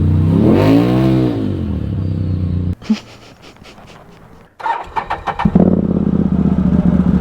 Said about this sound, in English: I gassed it like the second that I got this thing fired up